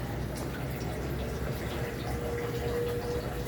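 Water runs steadily from an opened faucet into a tilapia pond filter, a continuous close splashing flow with no breaks.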